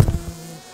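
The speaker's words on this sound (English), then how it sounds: "Crazy amount of bees on the microphone right now." Honeybees buzz right on a microphone during spring hive work, a brief, close, steady drone with a slightly louder start that settles into an even hum.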